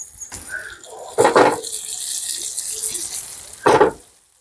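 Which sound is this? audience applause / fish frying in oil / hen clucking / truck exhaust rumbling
fish frying in oil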